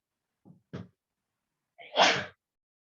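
A single human sneeze, preceded by two short sharp intakes of breath and ending in a loud close burst.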